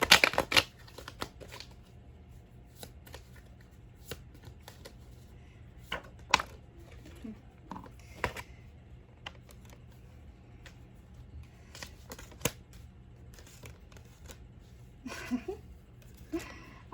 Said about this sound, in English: something's telling me I need to go in on this shuffle